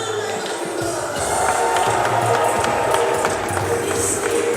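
A crowd at a Jackhammer UK kickboxing bout cheers the fighters' entrance, a continuous roar of voices and whoops with scattered sharp claps that swells and holds.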